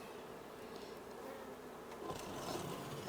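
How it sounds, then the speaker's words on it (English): Bees humming inside a stacked hive box as it is opened, a soft continuous drone that swells slightly louder toward the end, with no voices. "there are bees in here"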